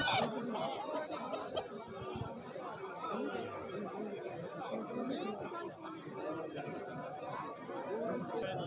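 Busy outdoor bird market at a Sunday fair in Mianwali, with crowd chatter throughout and intermittent fowl clucking and a rooster mixed in, under steady talk from people nearby.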